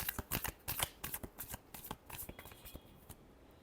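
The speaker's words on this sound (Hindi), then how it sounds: "last shuffle" Tarot cards being shuffled by hand, a quick run of crisp riffling flutters and taps close up, fairly quiet with no talking.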